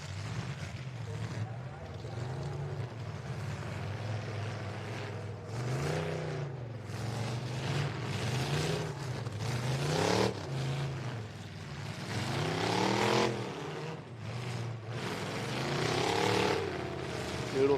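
Demolition derby car engine at a live event, revving hard with rising and falling pitch sweeps, loud and close, under a steady crowd and arena din with a commentator's voice.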